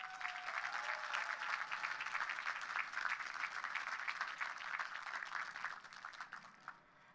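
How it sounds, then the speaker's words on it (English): An audience applauds at a speech, with dense, sustained clapping across the room that holds steady for several seconds and then thins out toward the end. "She deserves a round of applause"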